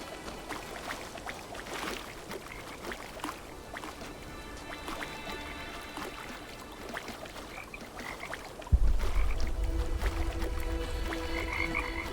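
Frogs croak steadily through a game environment, a dense chorus of repeated croaks with a low rushing wash of water or movement coming in near the end.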